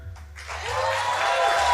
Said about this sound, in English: And the fucking people clapping.